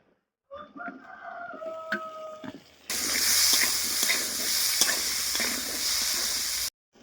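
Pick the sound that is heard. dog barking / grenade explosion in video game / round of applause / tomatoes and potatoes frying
tomatoes and potatoes frying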